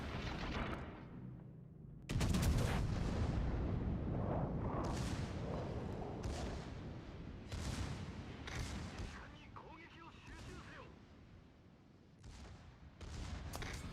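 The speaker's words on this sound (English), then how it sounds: "Right when my secondaries start firing." A warship's secondary guns fire in a naval video game, loud booming salvos with rumbling tails repeating at irregular intervals, with a voice talking over them.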